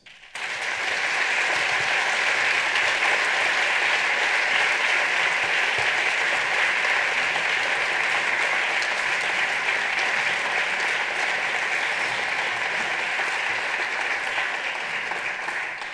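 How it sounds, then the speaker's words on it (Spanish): Sustained applause from a large audience at an awards gala, steady and loud throughout with dense clapping and no speech. "Este aplauso va dedicado para ellos y para ellas."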